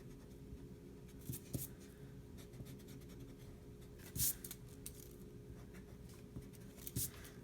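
A pencil scratches straight lines across paper while drawing perspective boxes, with soft rubbing strokes from erasing between them. The sounds are faint and close, with brief louder scrapes at intervals.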